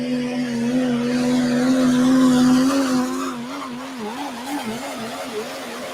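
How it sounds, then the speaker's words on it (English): Diesel pulling trucks in the 360 class at a tractor pull in Edgerton, Wisconsin wind up to the governor, a loud sustained engine drone that holds steady, then wavers and surges unevenly as the pull continues. "You'll hear it all of them wind up when it gets to the governor"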